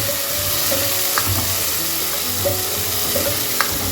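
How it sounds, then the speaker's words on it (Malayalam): Onion, ginger and tomato frying in a pan for chana curry, producing a continuous loud sizzle with occasional stirring clicks and scrapes, close up and without speech. "നമുക്ക് ചെറുതായിട്ട് മുറിച്ചിട്ട് കൊടുത്തിട്ട് ഇതുപോലെ ഫ്രൈ ആക്കാം"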